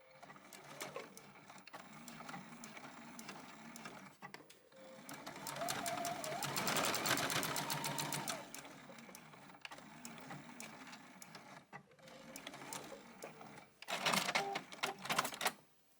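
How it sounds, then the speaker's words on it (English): A sewing machine stitches a half-inch seam across the corner of a purse, a fast close mechanical whir running in several bursts with short pauses between them and a final louder spurt. "I'm just going to sew with a 1/2 inch seam allowance right across this cut that I made"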